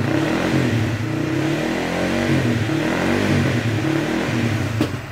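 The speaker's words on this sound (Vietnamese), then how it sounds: "Nổ máy lại thử này. Đó, bấm một cái là nổ nha, lành lắm." A Honda Winner motorcycle engine runs close and loud, idling with a steady mechanical chug and throaty exhaust rumble, rising slightly in a mild rev, with no talk over it.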